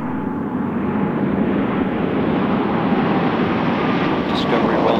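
Space Shuttle Discovery rolls out on runway 22 at Edwards Air Force Base, California, after landing with its drag chute deployed, giving a loud, steady broadband roar of rushing air and rumble that continues unbroken throughout.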